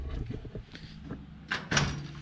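A metal house door is pulled open and its latch clicks, with a short sharp clack near the end above quiet room noise.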